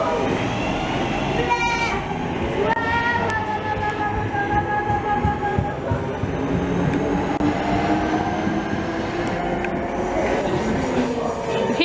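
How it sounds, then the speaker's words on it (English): A Class 390 train rumbles into a station with rolling wheel noise and faint squealing, while people talk nearby over the steady din. "Here's our train."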